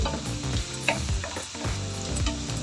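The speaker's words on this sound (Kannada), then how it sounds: "ಚೆನ್ನಾಗಿ ಗೋಲ್ಡನ್ ಫ್ರೈ ಬರೋ ತನಕ ಫ್ರೈ ಮಾಡಿ." Ingredients for a capsicum masala curry fry in oil until golden, giving a steady low crackling sizzle with a few stirring clicks, heard under background music without any talking.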